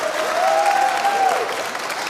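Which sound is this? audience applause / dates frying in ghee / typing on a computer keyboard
audience applause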